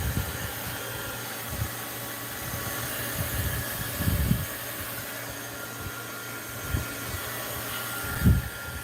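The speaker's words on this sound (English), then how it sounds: "I'm going to use the heat gun on this." A heat gun blowing alongside a running fan at a mixed-media art journaling desk: a faint, steady airy whir that runs throughout, broken by a few soft knocks and thumps of handling.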